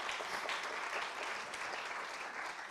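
An audience applauds at a media innovation award ceremony, a uniform wash of clapping from a sizable crowd, steady and fairly quiet throughout the short stretch.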